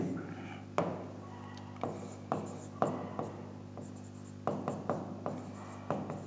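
Handwriting on paper during a chemistry lesson: a series of soft pen scratches and taps in irregular short strokes, quiet and close, with no talking.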